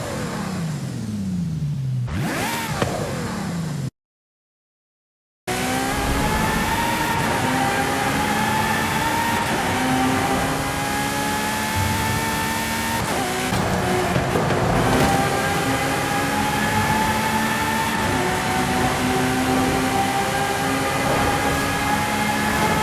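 A high-revving Ferrari engine in Forza Horizon 5 climbs and shifts through gears, its whine rising in pitch, with a brief silent gap early on.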